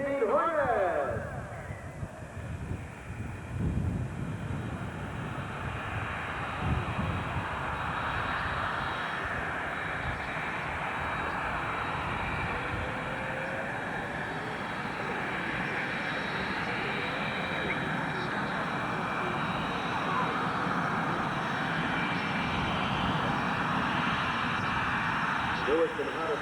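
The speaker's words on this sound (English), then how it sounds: "A tremendous display of tactical performance in the FA-18 Hornet!" Roar of an F/A-18 Hornet fighter jet engine during a flight demonstration: a loud, sustained broadband rush that holds steady for the whole stretch, with a voice faintly audible underneath.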